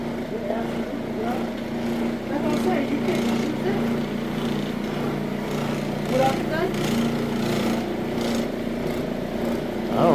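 Floor machine scrubbing the top dirt off a very dirty VCT tile floor, a continuous motor whir with scraping texture and slight surges, heard under intermittent background noise.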